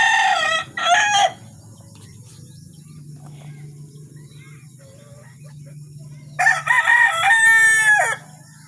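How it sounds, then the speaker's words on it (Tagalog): A rooster crows loudly twice, once at the start and again several seconds later, with a quiet stretch of faint background hum in between. "Tingnan mo yung manok ko."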